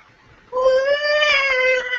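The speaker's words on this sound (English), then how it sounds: "Callum, your cat's there" A cat gives one long, loud meow up close, a drawn-out tonal cry lasting about a second and a half that rises slightly and then holds steady.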